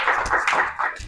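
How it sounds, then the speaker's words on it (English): Short burst of audience applause for a speaker at a CryptoMondays meetup in Philadelphia, a dense patter of hand claps lasting about a second at moderate loudness. "let's have a round of applause for Matt"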